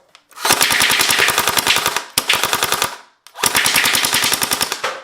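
Gel blaster fired first in a quick three-round burst, then in long full-auto strings: rapid, evenly spaced snapping shots in three loud close bursts with short pauses between, no talking.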